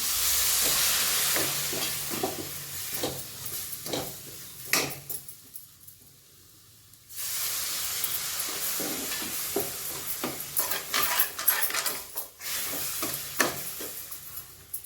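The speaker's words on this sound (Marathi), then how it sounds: "हे पाव चमचा जिरेपूड घातलेला आहे हे आपण छान असं आता परतून घेत आहोत" Spinach sautés with cumin powder in a pan, giving a steady close sizzling hiss with light stirring scrapes; it drops almost silent for a moment midway, then the frying resumes.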